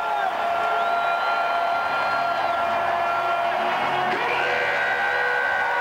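A Cleveland crowd at a LeBron game whoops, yells and cheers in a dense, steady roar, with shrill whistles or shouts rising above the mass of voices.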